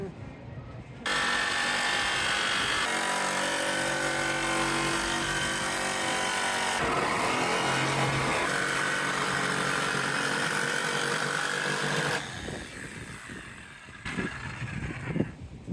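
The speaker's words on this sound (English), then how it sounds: "Cover the bottom of your jigsaw so you don't mark up your van" A jigsaw cuts a window opening in the metal side of a van, a loud continuous buzzing rasp for about eleven seconds, up close, then stopping with handling noise, and people talk over it.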